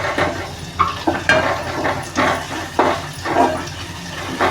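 Onion tossed into a pan for a dried-fish curry crackles and sizzles in uneven bursts as it is stirred, with scraping strokes roughly every second, close by and without voices.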